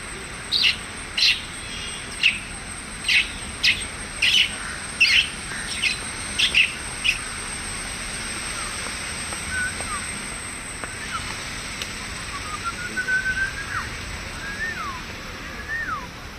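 A mimicry artist imitates bird calls with the voice: a quick series of about ten sharp chirps, followed by a few rising whistled tweets, close and clear against faint background hiss.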